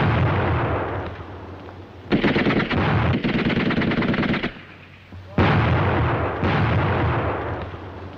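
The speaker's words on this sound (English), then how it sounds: "Grenades open up the charge." Grenade blasts and rapid gunfire from a WW2 German squad assault, loud and close, in dense sustained bursts broken by brief lulls.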